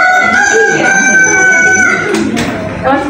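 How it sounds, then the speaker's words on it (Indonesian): A rooster crows in a long, drawn-out call during a children's Islamic storytelling session, with crowd noise and voices around it. "Suatu hari ada ayam berkokok."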